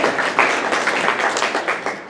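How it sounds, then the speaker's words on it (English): Audience applause at a talk about ticket sales for a Nutcracker ballet production, a short burst of dense, close clapping from a crowd. "round of applause"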